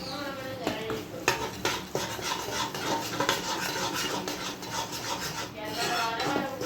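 A spoon stirs and scrapes jaggery into hot ghee in a pan for sukhdi sweet, the gas switched off; close, steady rubbing and rasping strokes with metallic clinks against the pan.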